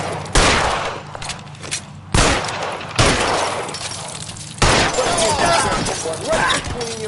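Loud gunshots in a video game shootout in L.A. Noire, several sharp blasts spaced a second or two apart with glassy debris and rattling between them.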